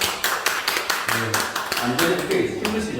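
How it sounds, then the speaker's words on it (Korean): A short burst of group applause at a CPR safety training session, irregular claps of several people overlapping for a few seconds, fairly close and loud. "박수 한번 주세요."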